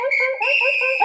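A bright, sustained whistle with harmonics and pitch steps, used as a sound effect, close and clear, alone without talk.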